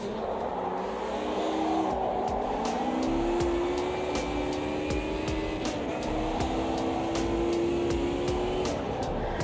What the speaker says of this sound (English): tyres are complaining and I don't blame them